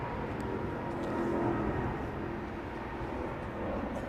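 An aircraft flies over Heathrow Airport at night under low cloud, producing a broad, sustained jet rumble that swells slightly and then holds, with no talking.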